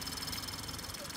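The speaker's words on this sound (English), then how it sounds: "Oh my god, it sounds so clankety, clickety, clankety." An idling 2019 Ford Fusion SEL EcoBoost engine runs with a fast, rattly clatter ticking through its steady hum, fairly faint and continuous.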